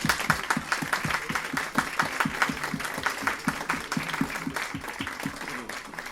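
A crowd claps steadily at a presentation event in a Fnac store, many hands applauding in a dense, rhythmic patter throughout.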